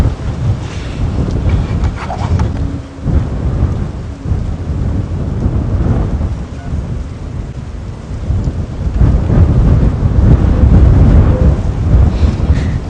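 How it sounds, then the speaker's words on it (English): Strong wind gusts roar steadily with heavy rain and rumbling during an open-vehicle safari drive, swelling louder toward the end; no voices. "You can just hear the wind, I imagine, gusting."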